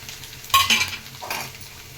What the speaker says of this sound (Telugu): ఒక స్పూన్ అల్లం ఎల్లిపాయ పేస్ట్ చేసుకుందామండి ఇది పచ్చివాసన పోయే వరకు వేయించుకున్నాము